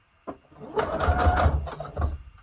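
A sewing machine stitches a junk journal tag, a close, loud, steady whirring run of about two seconds with a short dip partway through and no talking.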